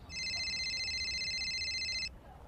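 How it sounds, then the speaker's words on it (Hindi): A mobile phone rings as a sound effect in a spoken audiobook. A single steady electronic trill with a rapid pulsing tone lasts about two seconds and then cuts off. It is moderately loud and plays alone with no voice over it. "तभी उसका फोन बजा"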